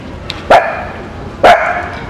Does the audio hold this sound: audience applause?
no